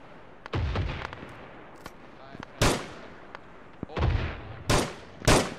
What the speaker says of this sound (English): We've got a machine gun or something on us.